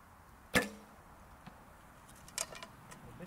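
A longbow shot at a target 30 to 60 yards away, a single sharp snap of release, then a faint impact about two seconds later, quiet outdoors with no talking.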